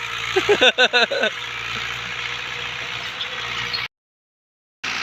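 A New Holland 640 tractor pulls a disc harrow through a field, its engine a steady mid-pitched drone. A voice speaks briefly near the start, and a short dropout of silence comes near the end.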